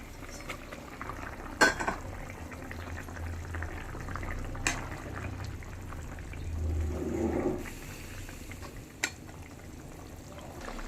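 Pieces of fish slide into a pot of simmering vegetable curry, which bubbles quietly throughout; a few sharp splashes and clunks stand out above the low simmer.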